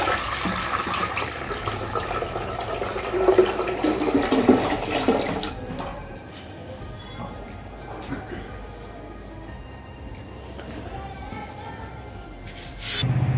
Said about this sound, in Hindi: मैं पानी डालने जा रहा हूँ, देखते हैं कहीं